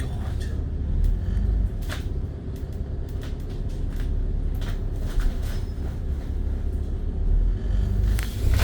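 An OWC Group Mercedes Citaro bus passes with a steady low engine rumble and road noise, moderately close and fairly even throughout, with no talk.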